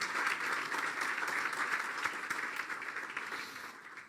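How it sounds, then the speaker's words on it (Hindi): A church congregation at a sermon gives a round of applause, fairly distant and steady, then fades over the last second. "मैं चाहता हूँ ज़ोरदार तालियां मारें।"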